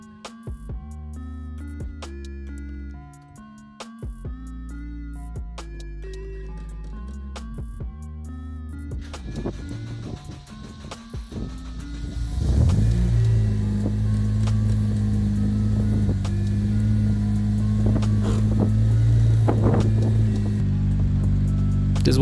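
A Honda K20 engine in an EK Civic cranks briefly, then catches and settles into a steady idle, a loud low hum that holds for the rest of the clip.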